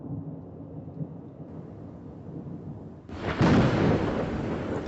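A thunderstorm over the Masai Mara grumbles as low rolling thunder, then heavy rain bursts in as a dense, loud hiss.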